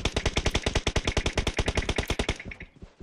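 Rapid automatic gunfire in PUBG, a dense close burst of about thirty evenly spaced shots fired in a fast rhythm before cutting off into a fading tail.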